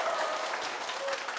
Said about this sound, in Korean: 와우, 박수.